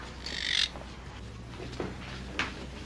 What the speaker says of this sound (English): Is that the bird that bit the detectives?